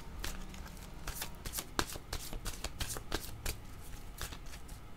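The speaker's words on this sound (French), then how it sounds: "je vais demander une nouvelle carte" Playing cards shuffled by hand for a tarot-style card reading, a steady run of crisp riffling bursts repeating close up, alone with no talk.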